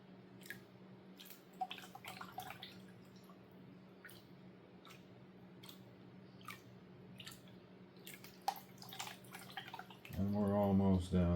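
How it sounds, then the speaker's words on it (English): Black sand concentrates are hand-panned for gold in water, giving quiet, scattered drips and small splashes at an irregular pace, before a voice comes in near the end. "we're going to go ahead and pan all the way down to the end"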